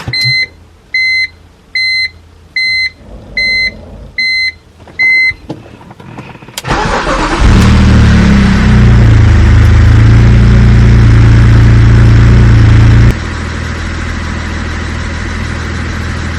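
A BMW Z4 E85 gives a series of dashboard warning beeps before the starter cranks and the engine catches with a loud rev, then settles into a steady, slightly quieter idle.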